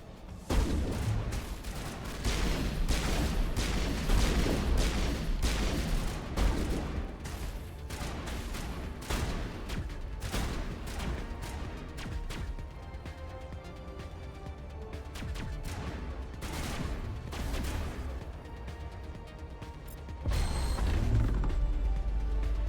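Bursts of gunfire in the Mass Effect video game, dense volleys of shots and impacts running almost continuously, loud and close, with a brief lull before another heavy burst near the end.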